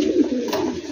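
A King Tiger pigeon gives one brief, soft, throaty coo at close range, alone with no voices.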